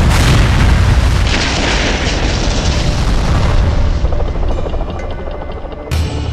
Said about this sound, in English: He sees more gunfire, then 2 massive explosions.